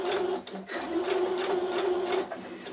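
Sewing machine running a dress hem over pins, its steady mechanical whir with a rapid needle rhythm continuing almost without a break, close and moderately loud, with a brief dip partway through.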